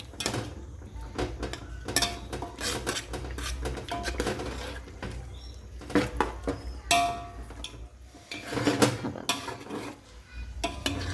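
A spoon stirs chicken pulao with yogurt in a metal pot, giving busy, continuous clinks and scrapes with irregular rhythm, close and fairly loud.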